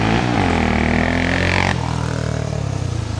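A Honda 400EX ATV launches from a standstill with heavy wheel spin, its single-cylinder engine blaring loud and close as it revs hard, then abruptly drops in pitch on an upshift and pulls away.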